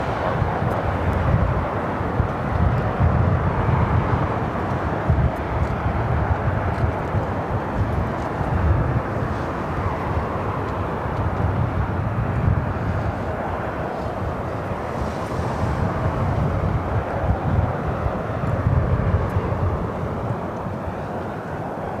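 Steady, loud roar of a jet aircraft at LAX during extreme winds, a broad continuous rumble filling the whole stretch without a break, with no voices over it.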